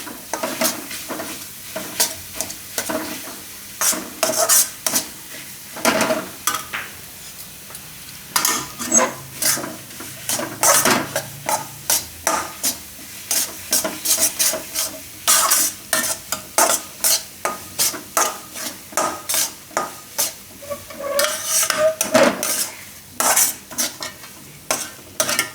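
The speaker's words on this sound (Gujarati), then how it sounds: "ગોળ બધો આ રીતે મિક્સ કરી લેવાનો" Jaggery being stirred into hot roasted jowar flour in a pan for sukhdi, a rhythmic run of scraping spoon strokes against metal with a faint sizzle, close and steady, speeding up toward the end.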